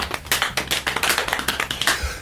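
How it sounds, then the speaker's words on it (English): A small group applauds briefly, a close burst of quick overlapping hand claps lasting a couple of seconds. "Small applause."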